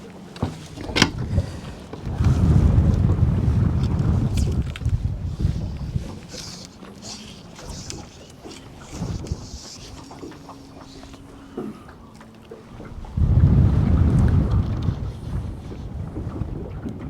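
Strong wind buffeting the microphone beside water during float fishing, loud roaring gusts that swell, ease off and return, with no speech.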